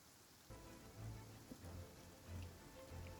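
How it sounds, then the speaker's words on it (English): Steady rain falls in Genshin Impact, a dense hiss of drops on surfaces that swells a little heavier after the first half second, with soft low rumbles underneath. "rain's getting heavy."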